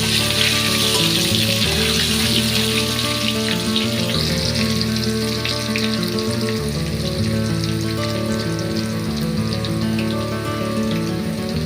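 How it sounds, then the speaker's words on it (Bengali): Potatoes frying in oil give a continuous close sizzle and crackle throughout, with steady tonal sounds humming beneath it. "আলুগুলো ভাজা প্রায় হয়ে আসছে"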